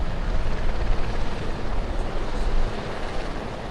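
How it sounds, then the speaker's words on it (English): A Denel Oryx military helicopter flies during an Armed Forces Day capability demonstration, its heavy rotor and engine roar loud and close, pulsing slightly and holding steady throughout. "on board the Oryx helicopter"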